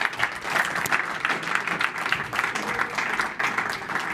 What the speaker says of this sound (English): Applause for Patrick